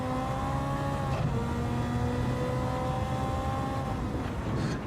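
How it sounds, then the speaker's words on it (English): A Gr.4 race car in Gran Turismo 7 drones steadily under load, with two brief pitch breaks from gear shifts, around one and four and a half seconds, interrupting the engine tone. "Do you know what the gear shifts sound like? It sounds like the Citroen, the Gr.4 Citroen."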